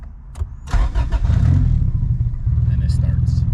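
Honda EG hatchback with a turbo B-series engine cranking and firing up via a push start button, a short crank followed by a steady rumbling idle, close by, with someone talking over it.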